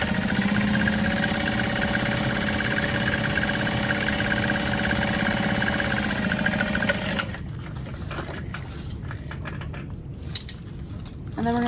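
A sewing machine runs steadily at close range for about seven seconds, stitching a seam on a canvas knapsack, then stops and leaves quieter handling noises and faint clicks.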